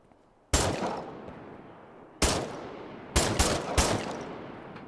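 Gunfire from the survival shooter Miscreated: four sharp, loud single shots, the first two spaced well apart and the last two closer together, each trailing off in a reverberant tail.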